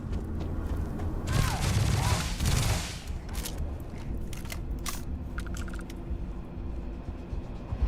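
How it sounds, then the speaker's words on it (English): A burst of automatic gunfire in the space shooter Starfield, a dense rattling volley lasting over a second, followed by scattered sharp clicks and smaller impacts in a busy game soundscape. "Never fired that gun before."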